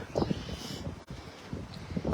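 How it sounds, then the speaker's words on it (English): Wind buffets the microphone in low, uneven rumbling gusts, rising and falling, with no voices, outdoors at a big cat sanctuary. "till these wind gusts die down"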